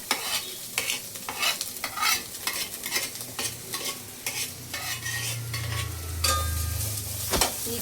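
Native onions frying in a pan for a mutton curry, with a continuous sizzle and repeated scraping stirs throughout, close and steady with no talk.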